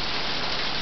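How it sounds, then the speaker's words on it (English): Hail and rain falling outside during a thunderstorm, a steady dense hiss of drops striking surfaces nearby, continuous and even with no voices. "It's still hailing."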